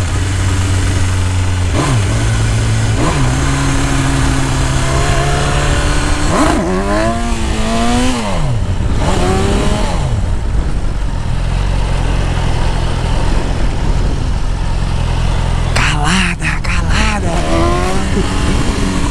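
A motorcycle engine revs up and down repeatedly while doing wheelies on a track, rising and falling in pitch against steady road and wind noise, with a closer burst of revving near the end.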